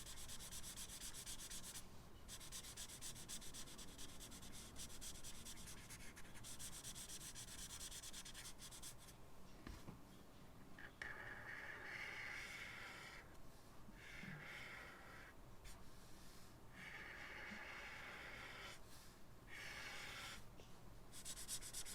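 Colored pencil or marker rubbing back and forth across paper while filling in a Snoopy Christmas lights drawing, a steady close scratchy scrubbing that runs continuously with brief pauses between strokes.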